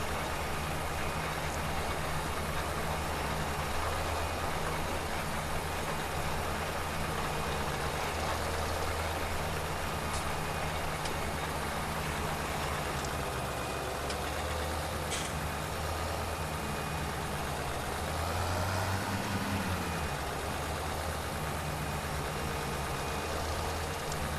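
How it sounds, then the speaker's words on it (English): An old tractor engine in Farming Simulator 17 idles steadily and loudly with a low, continuous rumble and no talk over it, swelling briefly near the end. "I definitely like the old tractor startup sounds"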